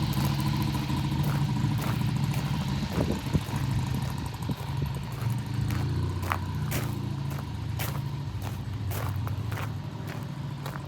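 A Slingshot three-wheeler sits idling with a steady low engine burble, overlaid by footsteps and occasional light clicks and taps nearby.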